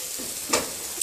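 Butter sizzling and browning in an overheated frying pan, a steady soft frying hiss with a brief stirring scrape in the middle, close and moderately quiet.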